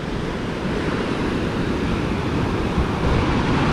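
Ocean surf at San Gregorio State Beach, California, rolls in as a steady, broad wash of breaking waves with some wind buffeting the microphone, no voices present.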